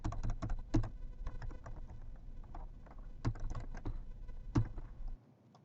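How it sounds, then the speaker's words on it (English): A web address is typed on a computer keyboard in uneven bursts of crisp, close key clicks with short pauses between groups of keystrokes, ending in near silence. "I'm going to type in the address here."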